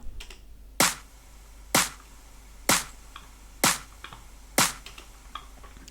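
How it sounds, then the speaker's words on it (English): Five sharp electronic clap samples hit at an even, steady pulse as part of a percussion pattern in an electronic music remix, each crisp and loud with a short decay, no voices. "My trademark clap."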